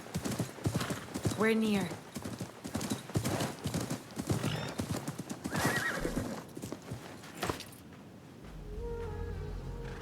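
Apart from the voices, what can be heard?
horse galloping and neighing, Assassin's Creed Mirage video game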